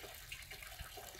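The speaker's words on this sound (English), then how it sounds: "Water feature purchased from Bunnings. Nice, it's quite loud." A garden water feature bought from Bunnings splashes onto stones in a soft, steady trickle, quiet and continuous, heard alone.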